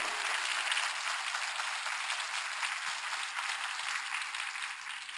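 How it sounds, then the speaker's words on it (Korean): A lecture audience at a court officials' training institute applauds in a steady, dense wash of clapping that holds at an even level for several seconds, with no distinct voices standing out. "여러분이 시도 때도 없이 박수를 빡빡 쳐야지 이게 신이 나지"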